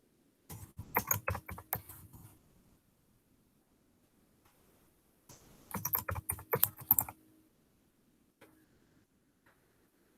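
Quick keystrokes on a computer keyboard enter a password in two short bursts of rapid clicking, separated by a few seconds of quiet and followed by a couple of isolated taps.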